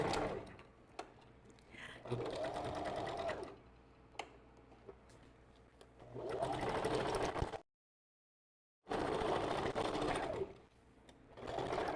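Sewing machine back stitching on a custom glueless wig, close and loud in rapid mechanical bursts separated by quieter pauses and one sudden silence, with faint ticking between runs.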